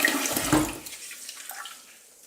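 Water splashes and swishes as rice is rinsed in a bowl, with a louder burst near the start and quieter trickling afterward, no voices.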